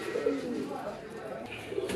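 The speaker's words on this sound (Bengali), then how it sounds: "অনেকক্ষণ পর আপনাদের একজোড়া কাঙ্ক্ষিত কবুতর খুঁজে পেয়েছি। এটা হচ্ছে কালো সাদা রাজগুলা কবুতর।" A pair of black and white Rajgula pigeons coo softly at close range, low rolling calls under a faint background of people talking.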